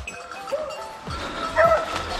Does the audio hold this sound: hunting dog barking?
yes